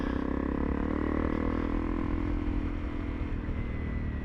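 A Honda CRF300 Rally motorbike engine runs steadily throughout, a continuous close-up drone with a faint clattery edge and no speech.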